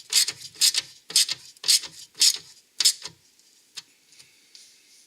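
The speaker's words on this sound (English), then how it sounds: "tighten up the 3 bolts to fasten this down. These are 10mm bolts." A ratchet turns down 10mm bolts on a ZZP cold air intake on a Buick Regal GS. There are six sharp, close rasping bursts in a steady rhythm, then a few faint clicks.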